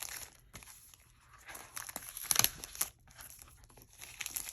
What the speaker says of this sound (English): I already just cut the wrapping